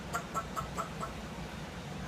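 A parrot imitates a chicken's clucking with five quick, evenly spaced clucks, faint and close, then fades into quiet room noise.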